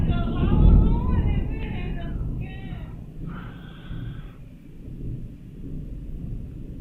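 Thunder from a nearby lightning storm rolls in low, deep rumbles that swell and fade over several seconds, with someone speaking over it.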